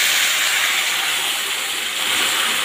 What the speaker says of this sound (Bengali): এই ফুটনো জলটা আমি এবার পোলাওর করে দিয়ে দেবো